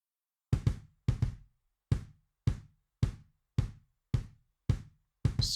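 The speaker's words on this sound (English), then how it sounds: "starting with the kick without effect sounds like this" Dry MIDI kick drum in an Addictive Drums style with no effects, hit alone in a steady pattern of about ten short thuds, some struck as quick doubles, each decaying fast into silence.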